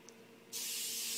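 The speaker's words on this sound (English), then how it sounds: "spray it with some Pam or whatever you use, cooking spray" A single steady burst of aerosol cooking spray hissing close by onto a pan, starting abruptly after a brief quiet moment and continuing to the end.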